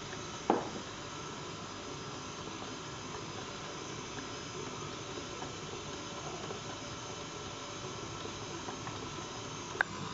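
A stand mixer runs at low speed mixing dough ingredients for Berlin doughnuts, a faint, steady hissing whir with a couple of brief clicks.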